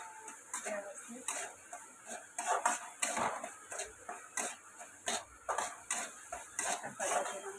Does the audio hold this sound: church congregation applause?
no